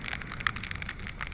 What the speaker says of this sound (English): Just some raindrops.